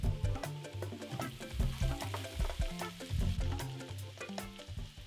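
Garlic sizzling in oil with browned onions for a chickpea, cauliflower and potato curry, a close, steady crackle with intermittent sharp pops and spoon clinks, and some low tonal background hum.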